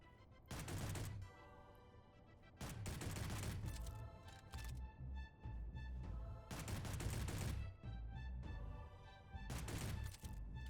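Pistol gunfire in the video game Space Engineers, heard as loud, dense bursts of shots in several separate volleys with short pauses between them, and no talking.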